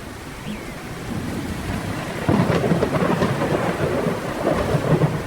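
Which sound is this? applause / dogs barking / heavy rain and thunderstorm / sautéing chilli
heavy rain and thunderstorm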